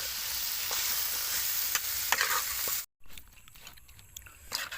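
Chicken legs and garlic frying in a pan, a steady close hiss and sizzle with occasional spatter pops, cut briefly by a gap before a quieter, crackly continuation.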